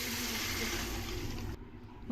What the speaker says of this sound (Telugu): ఇందులో వాటర్ వేసుకొని